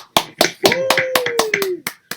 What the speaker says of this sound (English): Let's get a little round of applause.